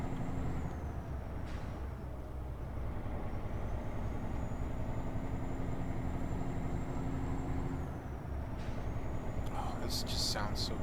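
A Freightliner truck engine in American Truck Simulator drones with a steady, loud low rumble and a high whine that holds, dips and rises again, ending with a brief burst of hiss.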